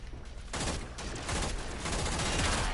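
Rapid, chattering automatic weapon fire in the video game Warframe from a gun modded for maximum fire rate, a dense, continuous burst of shots filling the whole stretch at steady loudness.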